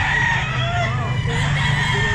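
Several chickens at a pet market cluck and call at once, loud and close, in a busy continuous flock din with no clear pauses.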